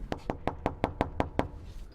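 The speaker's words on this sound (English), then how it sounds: "When we come into the neighborhood, we'll knock on the door" Knocking on a residential front door: eight evenly spaced, sharp raps in a steady quick rhythm, close and clear, followed by a brief quiet tail with no talking.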